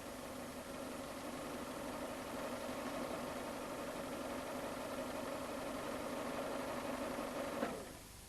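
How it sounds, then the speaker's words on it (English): Steady car engine idle with a low, even hum and a constant mechanical drone, running alone for several seconds while the steering is turned for a power steering fluid check, ending in a brief click. "With the engine idling, turn the steering wheel from lock to lock several times"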